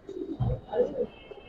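A Giribaz pigeon gives a brief, low, soft coo up close, with a little background noise.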